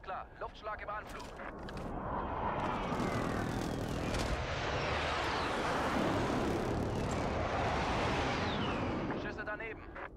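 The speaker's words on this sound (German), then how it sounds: "Hier ist Striker 3-1. Alles klar. Luftschlag im Anflug." A jet aircraft roars overhead during an airstrike in the video game Call of Duty: Warzone, a broad rushing swell with rumbling blasts beneath, as voices talk over it at the start and end.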